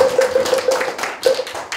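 Hand clapping from a congregation at a Korean Buddhist eye-opening ceremony at Beopryunsa temple, crisp, close claps in an irregular ragged rhythm, with a brief sustained tone sounding over the first beats.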